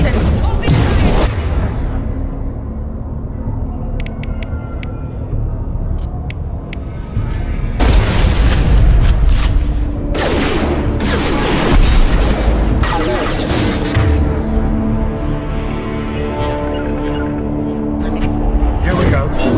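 Gunfire and explosions from combat in the Mass Effect 2 Legendary Edition video game, loud and continuous with heavy booms and bursts of shots, under intermittent voices.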